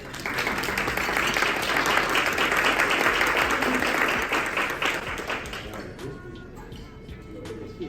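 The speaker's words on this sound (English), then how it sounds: "Let's give her a hand clap" A crowd applauds steadily for several seconds, the clapping thinning out toward the end, with some voices mixed in.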